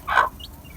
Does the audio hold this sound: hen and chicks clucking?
yes